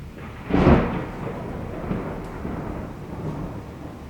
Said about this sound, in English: see a massive lightning strike and hear a big boom